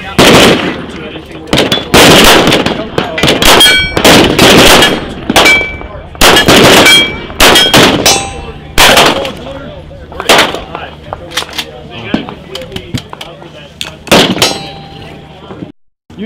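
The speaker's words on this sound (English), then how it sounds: "You shot the real 1911" Semi-automatic 1911 pistol fired at a trade show industry range: a string of sharp, loud shots in uneven bursts with echoing tails, mixed with other guns on the range and voices in between.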